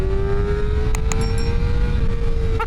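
A Kawasaki ZX-4RR motorcycle engine holds a steady, high-pitched wail near its rev limiter. The loud, close drone barely changes in pitch, with a few faint clicks over it.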